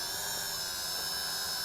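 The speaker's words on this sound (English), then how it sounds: "Giving it throttle did it. Okay, for that automatic takeoff." Camera drone (KF607 folding model) with its motors spinning up for takeoff, a steady high-pitched whine holding level and loud, alone with no talk.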